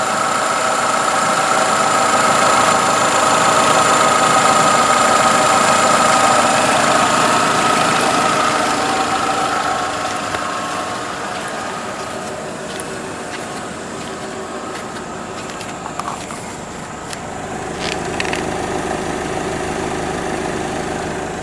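A 2011 Nissan Altima with the 2.5 engine and 76,000 miles idles steadily and fairly quietly up close, a smooth continuous hum with faint mechanical ticking and a slight swell near the end.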